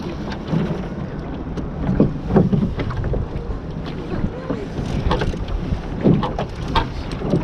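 Waves slap and splash irregularly against a small Optimist sailing dinghy at sea, with wind rushing over the microphone and brief bursts of louder spray.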